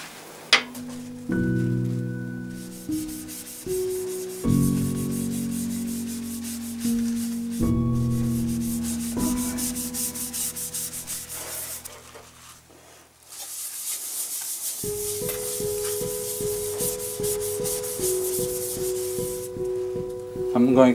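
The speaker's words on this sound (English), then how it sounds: "I'm going to use chestnut wax on it." Chestnut wax rubbed by hand onto a turned wooden bowl, a soft continuous scuffing and brushing that swells in stretches, heard beneath tonal music that runs throughout.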